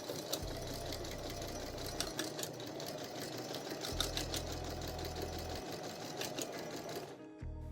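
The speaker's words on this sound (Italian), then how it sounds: "e così l'inizio della cucitura è saldo e posso iniziare la cucitura in avanti." A sewing machine runs forward along a straight seam in two steady bursts of rapid stitching with a pause between, close and clear, and no talk.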